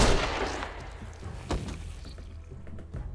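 A sharp gunshot cracks out in The Walking Dead video game, one loud burst at the start followed by a second weaker bang, with dull game ambience trailing after.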